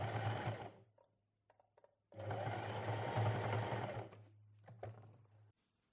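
A sewing machine runs in two bursts of rapid, even stitching through elastic tape, with a steady motor hum. Quiet handling sounds fall between the bursts and the machine stops near the end.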